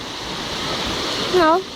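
Floodwater rushes steadily during a flash flood in Latawan, Basilan, a dense, broad roar like a waterfall heard up close, with a brief voice rising over it near the end.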